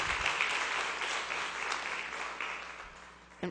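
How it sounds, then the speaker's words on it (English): An audience at a Schenectady city council meeting claps steadily after a speaker, a moderate wash of applause that gradually thins and fades toward the end. "if you're going to applaud after every person, we could be here for a very long time"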